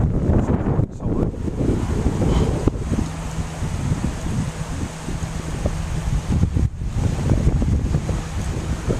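Steady wind gusting across an RV resort site in Mesa on a warm day, a continuous broadband rush with mic buffeting and rustling that swells and dips throughout, fairly loud and alone.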